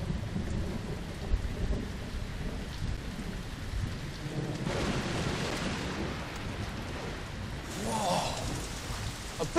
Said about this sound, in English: A big storm's coming